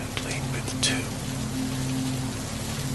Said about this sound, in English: When the rain began, Pooh was asleep. It rained, it rained, and it rained